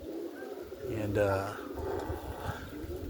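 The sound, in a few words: roller pigeons cooing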